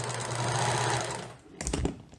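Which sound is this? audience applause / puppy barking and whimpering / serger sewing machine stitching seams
serger sewing machine stitching seams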